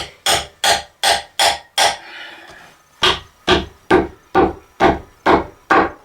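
A pretty sharp chisel is struck repeatedly with a hammer while prying a stuck part off a 2009 Subaru Forester, five sharp woody knocks in a row, a brief scraping pause, then six more evenly spaced, loud and close.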